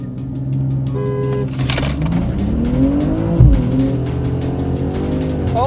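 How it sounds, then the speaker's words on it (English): A 2022 Golf R, a BMW M240i and an Audi S3 drag race down a strip at night, giving loud engine notes that rise and shift in pitch as the cars accelerate, with a brief mechanical whine near the start. "Racing at night down the Throttle House drag strip."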